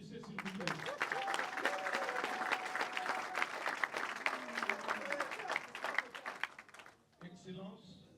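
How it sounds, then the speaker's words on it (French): A crowd at a cultural event in the DRC claps in dense, sustained applause for about seven seconds, with a voice audible over the clapping, before it dies away and a voice speaks alone. "Applaudissez s'il vous plaît."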